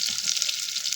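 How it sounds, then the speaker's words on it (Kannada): Mustard seeds splutter in hot oil for tempering, a dense, steady crackling sizzle with tiny rapid pops, close and loud throughout, with no voices. "ಸಾಸಿವೆ ಕುದೀತಾ ಇದೆ."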